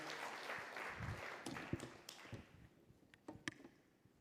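Applause at a gathering is already tapering off, a moderate patter of claps that thins to a few scattered, sharper individual claps near the end.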